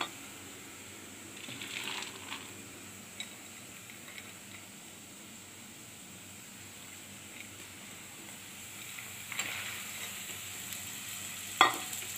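Moth beans (matki) are stir-fried in a pan, giving a quiet, low sizzle with occasional soft scrapes and stirring taps, faint and fairly even throughout.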